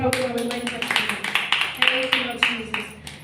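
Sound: congregation clapping

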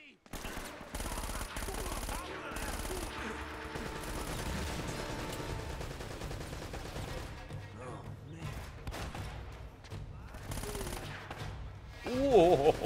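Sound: gunfire in Uncharted: Drake's Fortune video game

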